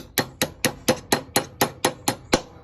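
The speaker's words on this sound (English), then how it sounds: "Then take a hammer" A hammer taps a key down into a Scag mower spindle pulley with ten sharp, evenly spaced metallic strikes, close and clear, with no talking.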